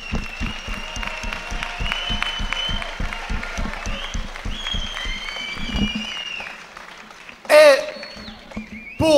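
An audience at an MMA event in Luxembourg claps for the Luxembourg fighters. Regular rhythmic claps ring over tonal music, then a sudden loud burst of noise breaks in near the end.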